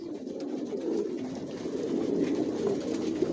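Racer pigeons cooing in a loft, a dense continuous murmur of overlapping low coos close by, with no talking.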